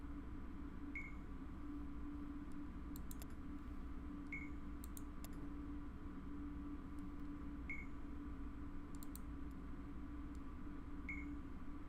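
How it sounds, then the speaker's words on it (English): A device beeps in the video game Dreamfall Chapters, four short, faint electronic tones repeating at a steady slow interval over a low ambient hum, with no one talking. "It's beeping."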